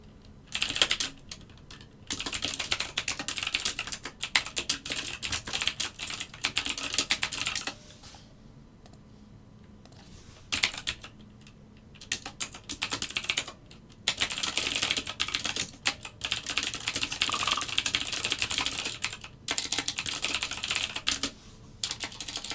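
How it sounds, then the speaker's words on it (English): Rapid clattering keystrokes on a computer keyboard, coming in dense bursts separated by short pauses, close and steady with no talking. "I'm done typing, I swear"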